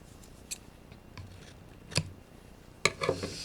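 Scissors snip through dried hot glue on a handmade rose crate, giving a few sharp, isolated cuts spaced apart, close and fairly quiet.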